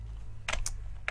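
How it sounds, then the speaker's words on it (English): A Cherry G86 series point-of-sale keyboard is typed on, giving a few sharp, close key clicks in a short irregular burst over a low background hum. "Here is a Cherry G86 series point of sales keyboard."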